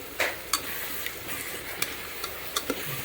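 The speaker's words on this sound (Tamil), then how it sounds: "மிளகாய் தூளோட பச்சை வாசனை போகிற அளவுக்கு நல்லா வதக்கிக்கலாம்." Onion masala with curd and chilli powder sautéing in a pan for tomato rice, a soft, even sizzle broken by several crisp spoon taps and scrapes against the vessel, with no one speaking.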